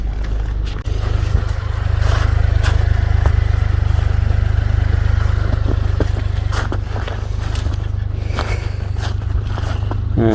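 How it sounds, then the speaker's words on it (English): A mini-truck's wheel spins while the 4x4 sits stuck in deep snow, giving a loud, steady engine drone with scraping and crunching over the whole stretch. "See, that wheel's spinning."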